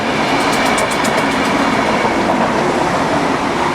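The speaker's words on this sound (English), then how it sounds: "And there's the train." A train passes close to a campsite in Spain, a steady loud rumble with rhythmic clicking of wheels over the rails throughout.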